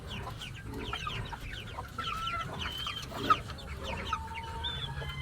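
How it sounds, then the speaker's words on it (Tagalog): A rooster clucks softly in repeated short calls among other farm chickens, faint and somewhat distant over outdoor background noise. "Yung tandang na hinipo mo."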